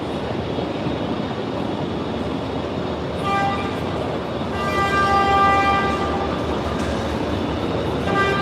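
An Amtrak Illinois Zephyr train, heard onboard, rumbles and clatters steadily as it rolls into a Chicago station, with tonal squeals and a horn-like whine rising partway through, fairly close and continuous.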